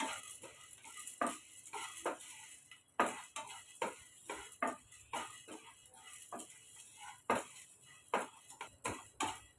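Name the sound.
roasting chana dal and urad dal in a pan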